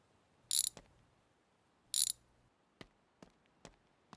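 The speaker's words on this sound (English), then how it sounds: "get these bolts undone" A ratchet wrench undoing bolts on a car in a home garage, with two quick bursts of close ratcheting clicks followed by several sharp, sparse single clicks in a quiet space.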